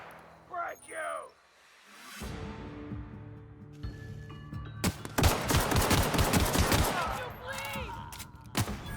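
Gunfire in the video game The Outer Worlds, a rapid burst of loud automatic shots after a short lull, with voices talking before and after the volley.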